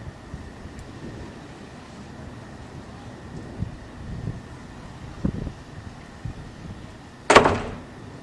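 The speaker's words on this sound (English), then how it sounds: "There's the front door going." The front door of a house during an evening thunderstorm gives one sharp bang near the end, after faint rustling and wind noise, close and sudden.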